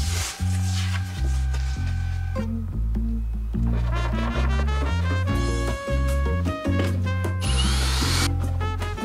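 A power drill drives screws into wood inside a tiny camper van, loud whirring bursts whose pitch rises and falls as each screw bites, close up and continuous, with no talking.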